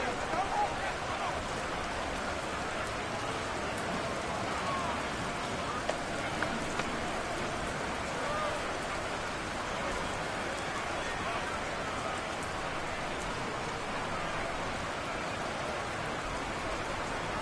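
Rain falls steadily on a football stadium at night during a Packers at Bills game, a constant even wash of hiss that carries on for the whole stretch with no talk.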